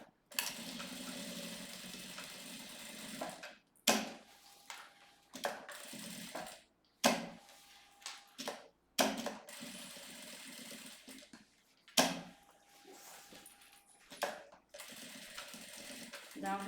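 Sewing machine stitching a fabric bag with short backstitch runs, several bursts of motor whir broken by pauses, close and fairly loud.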